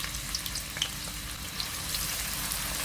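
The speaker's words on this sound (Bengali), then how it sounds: "এই পেঁয়াজটা কিন্তু আপনার একেবারে বাজার পেঁয়াজের মতো একেবারে ব্রাউন কালার করে নিতে হবে" Onions frying in a pan until brown for a okra rezala dish, a steady close sizzle with faint crackles and a few light stirring scrapes, no voices.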